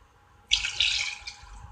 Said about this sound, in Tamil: இப்போ இதில் நம்ம ஒரு 2 கப் அளவுக்கு தண்ணி விட